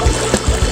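Rushing floodwater current during a typhoon in Minalabac, Camarines Sur, a loud close churning wash with low surging pulses, brief and continuous.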